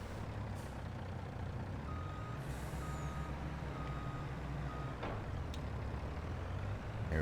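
A truck reverses in the Farming Simulator 22 video game on an Iowa farm map, with evenly spaced backup beeps sounding over a low idling engine rumble and a brief hiss of air brakes.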